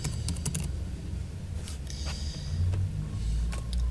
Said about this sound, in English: We type Server Manager